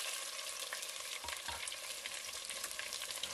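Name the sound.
mustard seeds and cumin sizzling in hot oil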